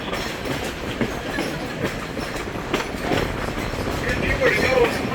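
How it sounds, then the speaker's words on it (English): The Blue Ridge Scenic Railway train rolls along its tracks in the North Georgia mountains, a steady rumble with repeated wheel clicks and clatter that grows a little louder, and faint speech mixed in. "Black bears don't like the sound that the train makes."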